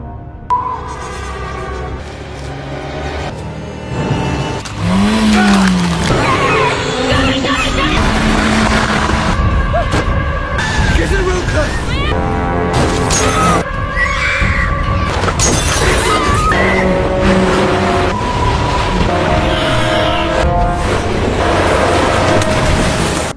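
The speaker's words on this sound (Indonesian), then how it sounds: "Karena kendaraan mereka terperosok, Adam bersama dengan Claire yang nggak bisa" A car skidding and crashing in a film, with loud, dense, continuous mixed noise that includes impacts, metallic smashing and engine roar alongside music and tonal effects throughout.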